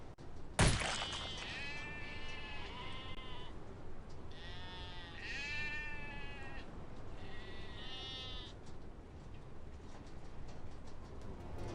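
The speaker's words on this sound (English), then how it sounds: "A sequence of various sheep noises will play upon shooting the chicken" A sharp hit as a chicken is shot in Counter-Strike, followed by a run of varied sheep bleats, several overlapping cries in quick succession, loud and close with a faint hiss beneath.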